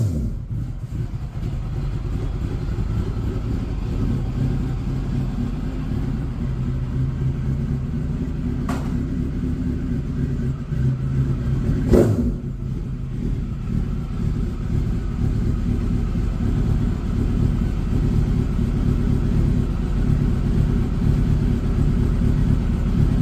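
An Acura RSX Type S engine idling as it warms up: a steady, continuous low rumble that holds throughout, with a couple of brief faint higher sweeps, no voices.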